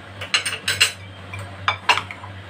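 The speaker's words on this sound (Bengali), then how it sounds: "এটাকে আমি মিক্স করব ভালো করে, মাশরুমটার সাথে যেন মিক্সড হয়ে যায়।" A spoon scrapes and clinks against a pan as Kashmiri chili, salt and turmeric are mixed into mushrooms for Bengali chili mushroom, several sharp metallic taps in quick clusters, close and clear over a low steady hum.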